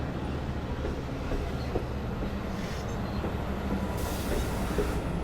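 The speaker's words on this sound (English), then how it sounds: "The crew is now executing the double stop to platform the rear 6 coaches" A Long Island Rail Road passenger train stopping at the Westhampton platform rumbles steadily with low rolling noise and faint wheel clatter, some high squealing near the end, no voices.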